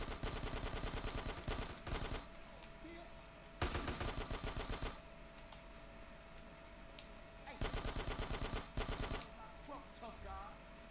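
Automatic gunfire in GTA San Andreas during a gang territory fight, rapid bursts of shots in several loud strings separated by short pauses.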